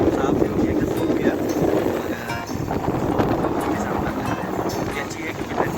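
Strong wind rushes at the open door of the moving Karnataka Express train, a loud, constant buffeting roar mixed with rumbling running noise.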